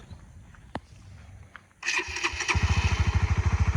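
A Honda CB150X motorcycle with three years of use starts up after a few faint clicks: the starter whirs, then the engine catches into a close, loud, pulsing idle.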